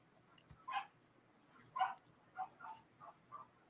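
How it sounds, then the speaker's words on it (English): A dog barks and yips faintly in the background, several short, spaced calls in an otherwise quiet room. "I can hear my dog."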